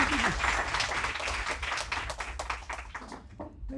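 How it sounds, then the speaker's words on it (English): Applause from an audience at an evening spiritual talk, dense steady clapping that stays loud throughout before thinning slightly at the end. "let's give a great round of applause to Swami."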